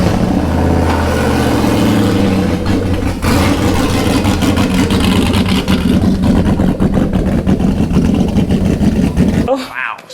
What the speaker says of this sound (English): fuel pump on, start cranking